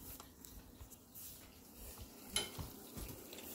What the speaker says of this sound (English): the sauteing. It is still happening.